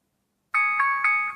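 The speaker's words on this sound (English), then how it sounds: "Let's turn the alarm volume up." A Ticwatch Pro smartwatch alarm sounds with a bright, clear electronic tone, pulsing in about four quick repeated beeps, fairly loud and close with no talk.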